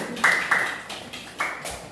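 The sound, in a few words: students applauding in classroom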